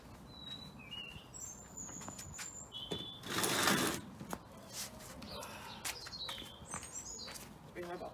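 Garden birds chirp and tweet in short high calls while being fed outdoors, faint and scattered among rustling and handling noises, with someone talking quietly in the background.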